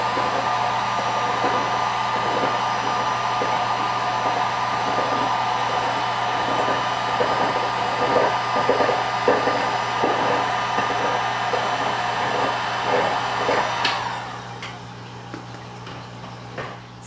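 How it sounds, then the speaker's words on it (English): A heat gun blows a steady, loud whoosh while shrinking wrap onto a wine bottle, with light ticking handling sounds underneath, then switches off near the end, leaving quieter background hum. "And now we go on to the best method, which is the heat gun."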